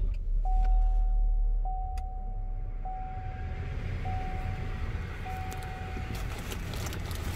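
A 2020 Chevrolet Equinox starts, a brief low engine crank at first then a steady idle rumble, with a repeating electronic chime tone sounding at regular intervals over it, close up inside the cabin.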